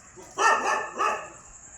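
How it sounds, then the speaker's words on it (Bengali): Two quick barks from a dog at night, moderately close, separated by a short pause, over a quiet background. "ভেতরে ভেতরে সব জায়গায় কুকুর চেঁচাচ্ছে"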